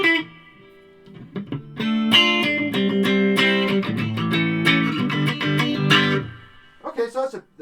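Electric guitar played through a Roland Micro Cube on its Fender amp model with a touch of reverb: a run of strummed chords and picked notes, sustained and fairly loud, closing with a few brief lighter notes after a short pause.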